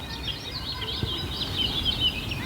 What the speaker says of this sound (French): Les oiseaux ont l'air en pleine forme chez toi, Olivier.